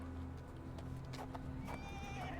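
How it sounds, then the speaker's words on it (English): A horse whinnies and snorts with soft clip-clop hooves outside a warehouse in the Sherlock Holmes: The Awakened video game, faint over a steady low ambient hum. "Is that horse even tied up?"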